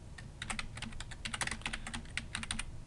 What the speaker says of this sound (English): we can just simply start typing as long as you click on it